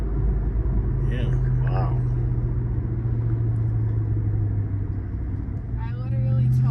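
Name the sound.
Ram TRX supercharger whine while driving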